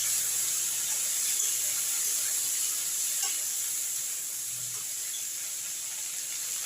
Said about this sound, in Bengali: গ্যাসের ফ্লেমটা কিন্তু জোরেই করে দেবেন, একটু চিনিগুলো দিয়ে এরকম করে একটু ভাজা ভাজা করবেন